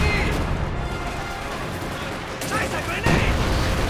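Dense WWII strategy-game battle din of continuous gunfire and explosions, with machine gun, grenade, field gun and howitzer fire in the mix, holding steady with a sharper burst near the end.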